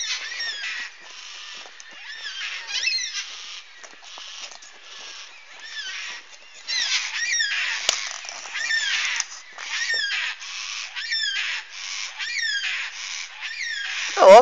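Wild birds squawk and chatter repeatedly in a thin, high outdoor recording, bursts of harsh calls coming in clusters, then a brief louder noise at the very end.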